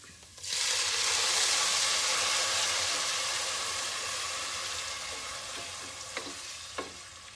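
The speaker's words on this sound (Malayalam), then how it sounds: "ഇനി അതിൽ നമുക്ക് വെള്ളം ഒഴിച്ചു കൊടുക്കാം" Water poured into a hot pan of spices fried with coriander powder gives a loud, steady sizzle that stays strong and slowly fades, with a couple of sharp pops near the end and no talk.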